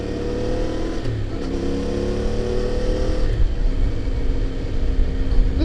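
CF Moto motorcycle engine riding along deep forest roads, a continuous close-up drone that holds steady and then rises as the bike accelerates, with wind rush mixed in.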